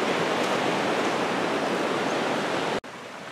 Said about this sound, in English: It's a beautiful river, a creek here, Marble Creek